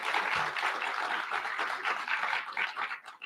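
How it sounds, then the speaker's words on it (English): An audience at a university undergraduate three-minute paper competition claps for a panel, a dense wash of applause that stays full for a few seconds, then thins and fades near the end. "Let's give them a round of applause."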